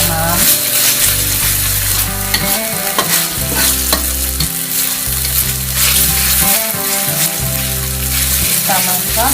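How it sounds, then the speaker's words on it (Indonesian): Chili, garlic, ginger and two lime leaves sauté in a hot pan, a loud continuous sizzle with repeated scraping stirs running throughout, close and alone with no talk. "Kita tumis terlebih dahulu sampai aroma dari bumbu ini keluar ya mam, dan layu"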